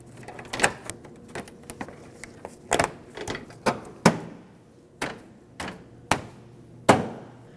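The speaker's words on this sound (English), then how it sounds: "make sure all the push clips are set in place, and then just press them down to lock them all in" Plastic push clips snapped into place one after another to lock a radiator shield on a 2009-2010 Dodge Ram 1500 5.7L V8, giving about a dozen sharp close clicks and thumps at irregular intervals.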